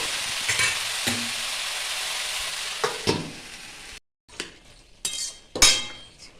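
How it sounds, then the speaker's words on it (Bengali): Bottle gourd stirred in a pan for a prawn dish, soft sizzling under several clinking, scraping strokes of a utensil against the pan, with a brief silent gap midway and no voices. "লাউ দিয়ে একটু নাড়াচাড়া করে নিয়ে ঢেকে রাখতে হবে কিছুক্ষণের জন্য"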